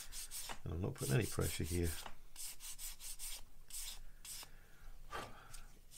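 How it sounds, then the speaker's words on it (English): Fine sanding sponge rubbed over a plastic part of a 1/35 Takom AH-64D Apache model kit: repeated quick, light scratchy back-and-forth strokes close by, while someone speaks over them. "we switch to the fine side and we give it a rub up to try and get rid of the deeper score marks"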